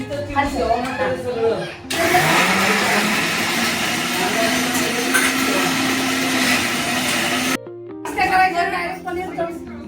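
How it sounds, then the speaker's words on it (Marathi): A mixer grinder whirs loudly and steadily, grinding spice masala for black bean rice for several seconds, with someone talking just before and after the machine runs. "हे आपण करतोय ते काळ्या घेवड्यासाठी लागणारा मसाला मिक्सरमध्ये"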